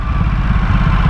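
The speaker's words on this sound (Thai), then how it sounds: "เสียงเครื่องยนต์ที่เราควรจะได้ยินอ่ะเสียงแบบเพาะๆของเครื่องยนต์อ่ะ" A Ducati SS 939 motorcycle engine running loud and steady with a low, throbbing, pulsing rumble throughout.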